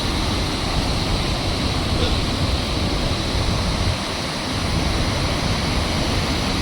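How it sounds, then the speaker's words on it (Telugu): A powerful waterfall fed by Sela Lake in Arunachal Pradesh crashes down from a height, a loud continuous roar of falling water heard close and unbroken throughout. "వాటర్ చూసారు ఎంత ఫోర్స్గా ఎంత వాటర్ పడుతుందో పైనుంచి."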